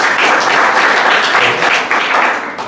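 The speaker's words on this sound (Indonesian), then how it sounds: "Tepuk tangan untuk Tuhan Yesus." A church congregation bursts into loud, sustained applause during a Sunday worship service, a thick crowd of clapping hands that swells and then eases off slightly toward the end, with no talking over it.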